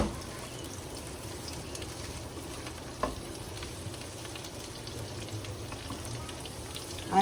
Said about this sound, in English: Since my beans are already cooked, I don't need much time to stir fry.